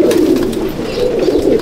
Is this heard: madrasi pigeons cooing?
yes